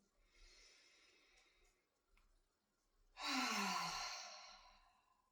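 A single person takes slow, deep breaths during a guided breathing exercise: a soft, airy inhale through the first seconds, a pause, then a long, heavy exhale that swells loudly and fades gradually, close and otherwise quiet.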